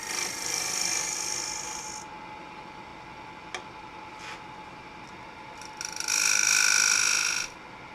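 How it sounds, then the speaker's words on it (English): A carbide tool used on its side as a shear scraper smooths the rim of a redwood bowl on a lathe, giving bursts of close scraping and hissing against a steady motor hum, with a louder stretch near the end. "I used the carbide on its side as a shear scraper to smooth the rim."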